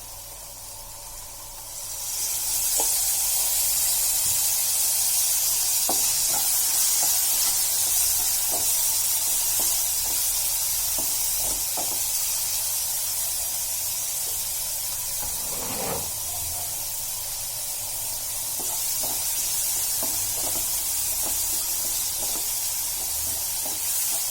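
Tomatoes and a little oil hit a hot pan for shev bhaji and start to sizzle. A loud, steady hiss begins after about two seconds and continues with a few small pops.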